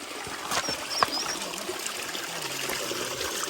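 Mountain water trickles steadily nearby along a hiking trail, a soft continuous dribble and splash with a brief brighter spike, no talking.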